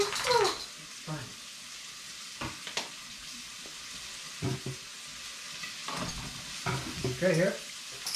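Onions fry in a pan and get stirred, giving a soft sizzle beneath intermittent scraping and clatter, with brief speech near the start and end.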